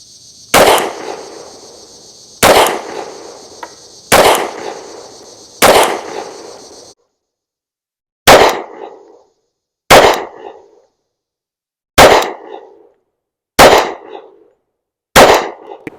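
A Glock 30 pistol firing Federal HST .45 ACP defensive rounds, nine sharp, loud shots spaced a second or two apart, each with a short ringing decay, the later shots slightly more clipped.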